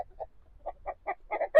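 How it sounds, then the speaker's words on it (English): Rhode Island Red pullets in cages at a local chicken auction, clucking in short, close, rapid bursts that grow busier and louder toward the end. "3 Rhode Island red pullets in each of those cages"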